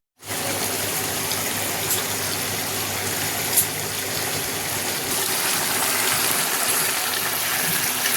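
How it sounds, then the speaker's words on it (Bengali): Mushrooms cooking on high heat in a pan, giving off a steady, loud, continuous watery hiss and sizzle throughout with no talking. "কত জল বেরোচ্ছে দেখুন মাশরুম থেকে।"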